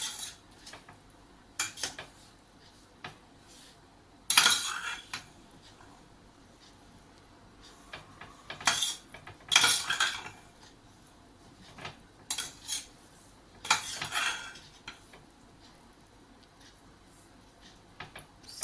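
Cooked vegetable biryani scooped from the sides of a pressure cooker, with scattered metallic clinks and scrapes of a spoon against the pot in short bursts over a quiet background.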